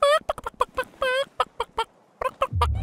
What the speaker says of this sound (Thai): Chicken น้องไก่